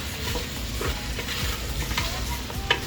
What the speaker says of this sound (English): I'm going to add them in. And then I'm going to stir them.